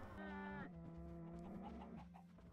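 A cow in Minecraft gives a long, loud, close moo with a strong pitched tone that drops and sustains, followed by a softer second lowing call.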